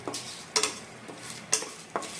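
Whole cumin seeds being fried in a pan for muri ghonto spices, with a spoon scraping and clinking against the pan in four or five sharp strokes over a faint background sizzle.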